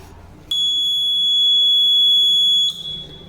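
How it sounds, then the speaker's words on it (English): A rain detector's buzzer sounds a steady, piercing electronic tone for about two seconds when rain falls on it, then cuts off, loud and close. "When the first drop of rain water falls, the buzzer will beep and the sound will be produced."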